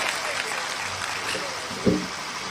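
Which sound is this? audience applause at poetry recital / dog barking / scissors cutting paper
audience applause at poetry recital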